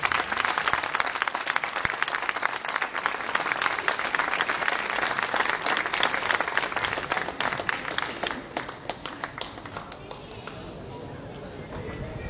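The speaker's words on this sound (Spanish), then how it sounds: "por favor, un fuerte aplauso" Audience applause at a Palestinian solidarity day event after a musical act is announced, sustained dense clapping from a crowd that thins and fades toward the end.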